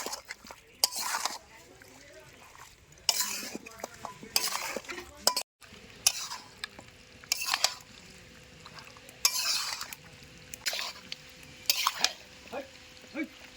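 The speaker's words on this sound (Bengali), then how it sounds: "এবারে সব কিছু একসাথে ভালো করে একটু খুন্তি দিয়ে মাহায় নেব" A spatula stirs chicken pieces coated in spices in a pot, giving repeated scraping strokes with light sizzling and metallic clinks. Sounds come close and moderately loud in short bursts, and a voice is faint in the background.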